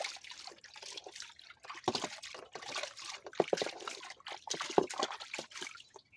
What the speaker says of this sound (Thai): เดี๋ยวมาล้างกันดูนะครับ